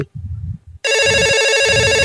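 A mobile phone rings loudly and steadily with a repeating electronic ringtone after a short stretch of low murmuring, in a rural comedy sketch setting.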